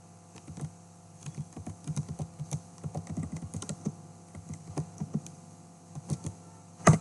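Computer keyboard typing, a steady patter of soft key clicks at moderate distance with a louder final keystroke, no speech.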